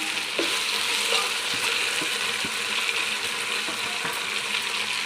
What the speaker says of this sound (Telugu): అల్లం వెల్లుల్లి పేస్ట్ వేసుకొని బాగా ఫ్రై చేసుకోవాలండి, పచ్చివాసన పోయే వరకు.